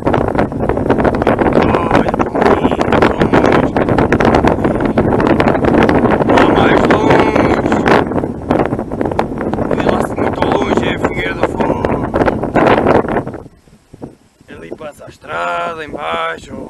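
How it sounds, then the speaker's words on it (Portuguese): Strong wind roars and buffets the microphone atop a coastal watchtower overlooking a beach, a loud continuous gusting that drops away near the end; someone talks intermittently over it. "Já está muito vento."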